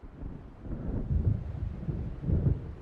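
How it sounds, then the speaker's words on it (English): Deep, rolling thunder from an approaching storm in the video game Alan Wake: a low rumble that swells in two heavy waves, with a windy, boomy undertone and no voices. "It seems there's a storm coming."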